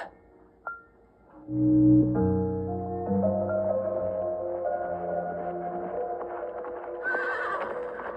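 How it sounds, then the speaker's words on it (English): A horse whinnies loudly and at length, its neigh rising and wavering over several seconds, after a brief knock at the start and with hoof clip-clop faintly underneath. "When their father's horse came home alone"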